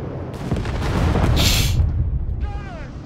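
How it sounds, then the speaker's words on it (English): A 6-pounder anti-tank gun being destroyed in the Company of Heroes 3 strategy game, heard as a loud rumbling explosive boom under ongoing battle noise, with a bright burst in the middle and a fading whistle toward the end. "6 pound gun being destroyed."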